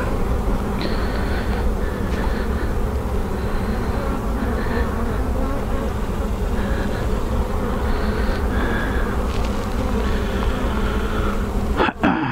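Honey bees buzz steadily and loudly during a brood chamber inspection of a beehive, a dense continuous hum with individual insects whining close past the microphone.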